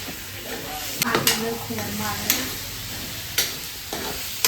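Chicken curry masala sizzles and fries in a pan while being stirred, with steady frying hiss and several sharp spoon scrapes and clanks against the pan; no talking.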